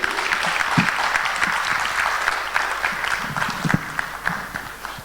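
An audience at a lecture event in the UK applauds to welcome the chairman, a steady, full round of clapping from many hands with scattered louder claps throughout.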